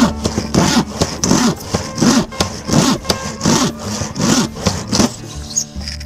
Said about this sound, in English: Not having good luck with my rip sawing today